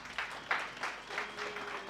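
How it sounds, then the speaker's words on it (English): Audience applause at a sports academy event for a coach named Sposisi, a steady patter of clapping that swells in several faint waves, fairly distant and thin throughout. "let's give Sposisi a round of applause, please"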